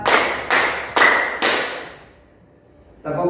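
Four crisp, evenly spaced hand claps ring out in a counted classroom clapping game, followed by a quiet pause and then a voice starting up.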